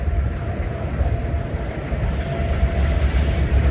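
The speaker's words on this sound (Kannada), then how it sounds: "ಇಲ್ಲಿ ರೈಲ್ವೆ ಟ್ರ್ಯಾಕ್ ಕೂಡ ಇದೆ, ಮತ್ತೊಂದು ಟ್ರೈನ್ ಬಂತೀಗ." A goods train rumbles past nearby on a railway track, a steady heavy low roar of wagons rolling on the rails.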